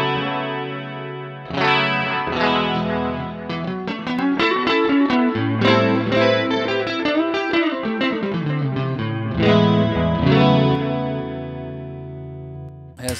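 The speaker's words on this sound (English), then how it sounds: "This is an Eric Johnson Strat." An Eric Johnson Stratocaster electric guitar played through a Sonicake Sonic Bar multi-effects unit, with chorus-tinged, lightly driven tone and a lower output level. A melodic phrase of picked notes and chords rings out alone for about thirteen seconds.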